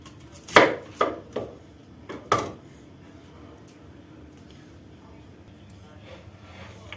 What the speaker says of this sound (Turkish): Ince ince doğruyoruz